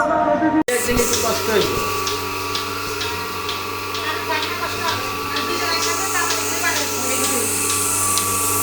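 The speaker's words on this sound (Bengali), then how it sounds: "এটা হলো তুরস্কের দুধ দাওয়ানো মেশিন মিলাস্তি মিল্কিং মেশিন" A Turkish Milasti milking machine working on a cow, giving a steady mechanical hum with a rhythmic ticking pulse. It continues throughout with a sharp click near the start and background noise around it.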